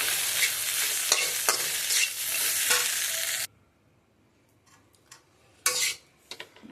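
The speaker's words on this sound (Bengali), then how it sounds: "এটার মধ্যে দিয়ে দেবো, দিয়ে ভালো করে মেশাবো" Poha being stirred and mixed in a pan, a steady dry scraping sizzle for a few seconds that then stops, followed by quiet with scattered utensil taps and clinks.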